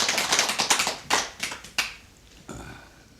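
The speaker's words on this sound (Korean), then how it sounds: "박수 한번 쳐드려요" Hall audience at a Korean Buddhist dharma talk clapping for a guest, a burst of uneven hand claps that thins into scattered single claps, with a few last claps toward the end.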